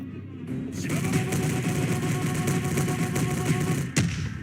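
A barrage attack from a character's moveset in the Roblox-style game Troublesome Battlegrounds, a dense, sustained rumble of rapid impacts and blasts that starts abruptly and holds steady at high loudness, with a sharp crack near the end.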